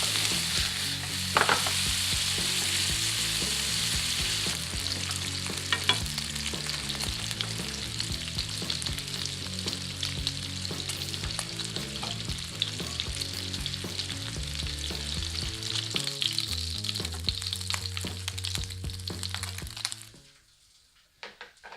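Spicy pork stir-frying in a hot frying pan for Korean jeyuk kimbap, a loud, dense, continuous sizzle with scraping and tossing clatter throughout, cutting off abruptly near the end.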